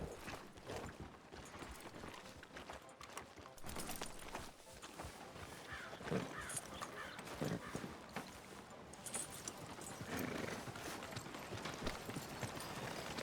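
Horse hooves clip-clop steadily in Red Dead Redemption 2, a rhythmic clatter of footfalls over a busy ambient background, with no talking.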